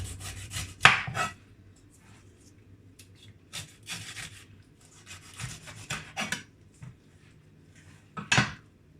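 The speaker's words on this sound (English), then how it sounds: "you chop up, you slice up your pineapple" A knife chops and slices through a pineapple in irregular bursts of cutting and scraping strokes with short pauses between them; no voices.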